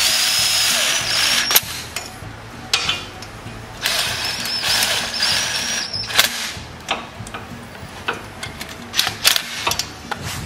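Engine bolts being run down with a power tool before torquing during a valve guide repair, giving several short whirring bursts with ratcheting clicks and metal handling between them, close by.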